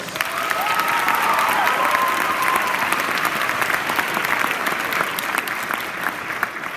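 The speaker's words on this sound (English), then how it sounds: "clap your hands and make some noise" At a Black History Celebration in the Shorewood High School auditorium, a large audience claps loudly and steadily, with cheering and a brief whistle-like shout rising early on, sustained throughout.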